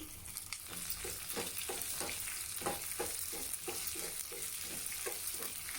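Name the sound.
chopped onion and curry leaves sizzling in hot oil with mustard seeds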